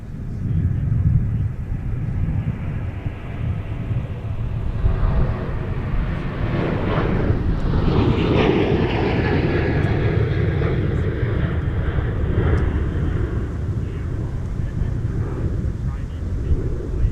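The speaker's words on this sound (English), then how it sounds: "Look at that, another rapid fire departure." American Airlines airliner taking off at Minneapolis–Saint Paul airport in winter, a loud, continuous jet roar and deep rumble that swells and slowly shifts in pitch as the plane climbs away, with wind buffeting the microphone.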